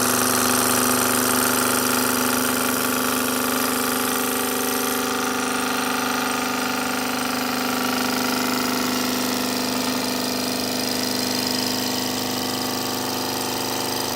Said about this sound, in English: this is my 1930s Weeden 670 engine.